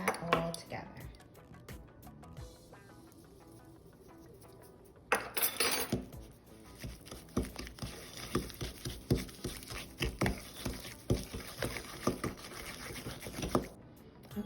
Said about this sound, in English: I'm gonna mix that all together.